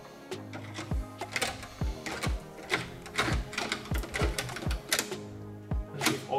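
A carbide cutter works on a lock cylinder, turning it with a rapid series of sharp metallic clicks and ratcheting taps, close and fairly loud, in an uneven rhythm with no voices.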